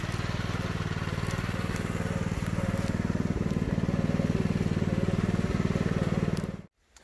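A tractor pulls a deliberately overloaded trailer of oak wood, its engine chugging in a steady, even pulse close by for several seconds before cutting off abruptly.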